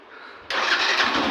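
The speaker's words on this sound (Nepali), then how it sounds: "यो न्युटनमा चाहिँ स्टार्ट हुन्छ के" Yamaha FZ V3 motorcycle in neutral, its engine catching abruptly after a brief starter whir and settling into a steady close idle, no voices.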